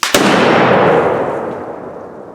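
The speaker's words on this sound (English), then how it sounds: "That sounded like a cannon going off. And half the barrel is gone." A gun barrel bursts from a mixed charge of black and smokeless powder, one sharp loud blast like a cannon shot followed by a long rolling rumble that slowly fades outdoors.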